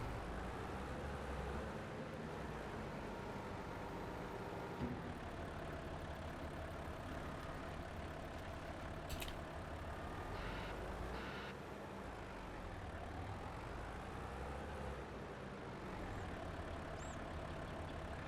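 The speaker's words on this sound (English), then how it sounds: "let's just have everybody idling away, wasting fuel." In a logging simulation game, trucks idle together in a forest, a faint steady low engine drone with a soft rumbling texture that continues unbroken and distant throughout.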